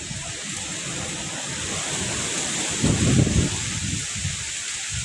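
Steady wind rushes across the microphone with broadband noise and low buffeting gusts, one stronger gust swelling midway.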